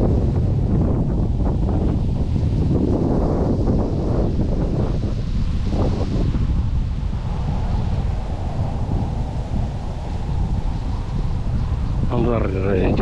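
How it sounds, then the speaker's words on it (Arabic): Strong wind buffets the microphone on a summer fishing trip at Al-Khiran, Kuwait, a loud continuous roar with gusts, mixed with faint water and boat sounds. "شوف الهواء شوف ما شاء الله اليوم هوا اليوم الحقيقة اليوم هوا تارس"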